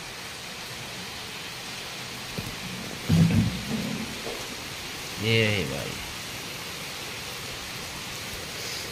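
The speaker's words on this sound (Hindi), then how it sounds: "कितनी तगड़ी बारिश हो रही है" Heavy rain pours as a steady, dense hiss throughout, with a brief rumbling burst of thunder; someone speaks briefly over it.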